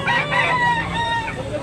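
A rooster crows loudly and close by at a chicken market in Tabunok, Talisay, Cebu, its long drawn-out call filling the whole moment with no voices over it.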